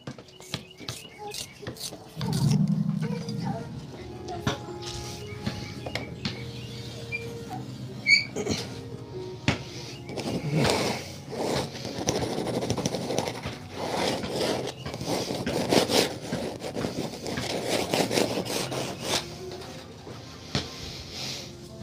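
Repeated scraping and grinding of a pencil being sharpened by hand, close and steady over about twenty seconds, with brief bursts of rustling between strokes.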